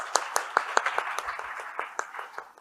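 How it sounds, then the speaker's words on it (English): Applause from a small conference audience for a panel taking the stage, heard as scattered, fairly sparse hand claps in a steady patter for a few seconds at moderate loudness with no voices. "can we have a round of applause for all of them?"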